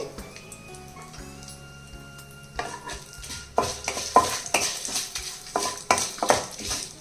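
Spices tempering in hot oil with turmeric for a coconut and raw tamarind chutney, starting quietly with faint tones, then crackling and sizzling in dense bursts alongside clattering spoon and pan knocks.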